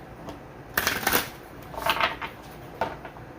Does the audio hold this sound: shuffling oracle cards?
yes